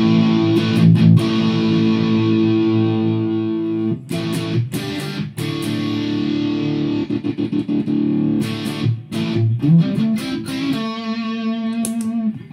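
An electric guitar played through an aha 6in1 multi-effects pedal on a distortion setting sounds out loud sustained distorted chords and riffs, with several abrupt stops and restarts and a final series of picked notes, no talking over it.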